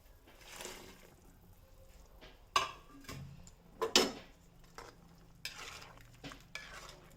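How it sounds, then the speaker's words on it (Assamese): Paneer goes into simmering masala in a wok, with quiet bubbling, sharp spoon clinks and scrapes against the metal, and a few louder stirring clatters, all close by. "মই এতিয়া ইয়াত পনীৰখিনি দি দিম।"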